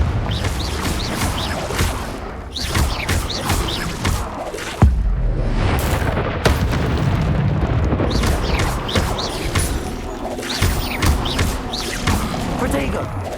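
Repeated blasting-spell explosions in the video game Hogwarts Legacy boom and crash amid a busy, dense fight soundscape, with a voice calling out spells over the impacts.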